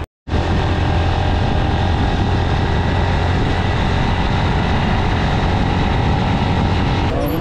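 Motorcycles riding along the road toward Lohandra Khola, with a loud, continuous engine drone and rushing wind close to the microphone throughout, after a brief silent start.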